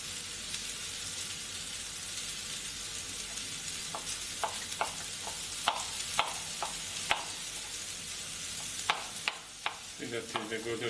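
Chopped onion sautéing in a pan makes a steady, broad sizzle throughout, with scattered sharp clicks of a utensil stirring and scraping against the pan.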